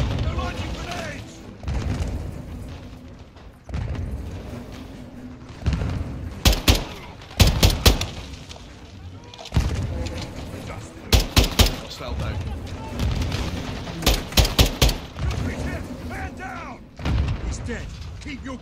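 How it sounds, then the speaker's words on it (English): Gunfire and grenade explosions in Call of Duty MW2, with repeated sharp shots and heavy booms in uneven clusters, loud and close, alongside in-game voices shouting. "Incoming! Take cover! They're launching grenades!"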